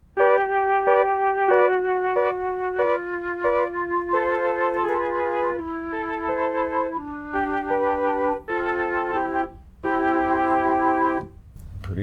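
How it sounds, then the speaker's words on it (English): Breathy sampled Mellotron flute plays a slow chordal melody, sustained tones stepping through changes, fairly loud with brief gaps near the end. "It's Mellotron flute samples,"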